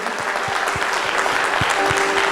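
Steady applause from a church congregation, dense clapping filling the whole stretch without pause, fairly loud and close.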